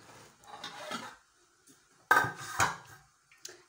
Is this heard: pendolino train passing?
no